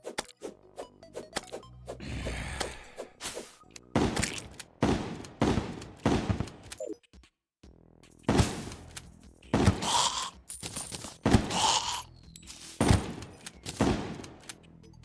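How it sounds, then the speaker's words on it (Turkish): Shotgun firing in Terraria on Expert mode, a rapid run of loud, punchy blasts in quick bursts, with a brief pause midway before the volleys resume. "Oğlum pompalı her şey tek atıyor"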